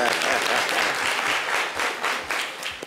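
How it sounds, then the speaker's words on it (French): A studio audience applauds a mother called up as a contestant on a French entertainment show: dense, loud, sustained clapping filling the whole moment without a break. "On l'applaudit très très fort."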